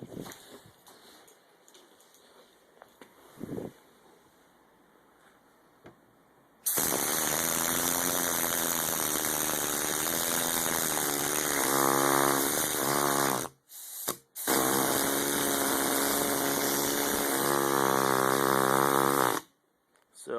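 Homemade steam engine running on compressed air at about 40 psi: a loud, rapid, steady mechanical chugging starts abruptly, briefly cuts out, then resumes until it stops.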